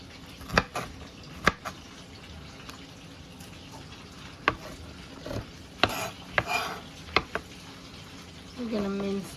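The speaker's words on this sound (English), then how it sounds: "So my mom's just gonna cut some garlic." A knife chops garlic on a cutting board in a home kitchen, giving sharp, separate, close knocks spaced unevenly, with quiet voices and soft kitchen sounds between them.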